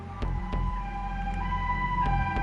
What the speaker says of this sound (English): he heard the sound of ambulance sirens approaching